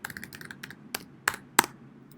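Quick bursts of typing on a computer keyboard, a handful of crisp key clicks with a few sharper strikes, close and alone with no talk.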